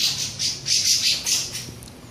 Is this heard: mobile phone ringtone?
no